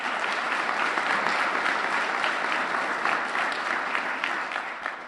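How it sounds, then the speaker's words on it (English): An audience at a Board of Selectmen swearing-in ceremony applauds the departing board members with steady, dense clapping that holds for several seconds and tapers slightly at the end. "A special round of applause deserved to our departing Board of Selectmen members"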